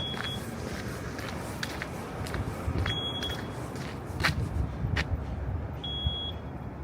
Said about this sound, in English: Why is this car beeping aggressively?